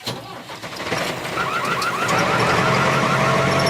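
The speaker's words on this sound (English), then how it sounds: "Tractor." An engine cranks and catches, then settles into a steady rumbling idle while a faint warbling tone sounds in the background.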